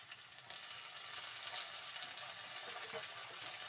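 Chopped onion and tomato frying in a pan for vegetable chitranna, a soft steady sizzle with faint stirring scrapes throughout, no voices.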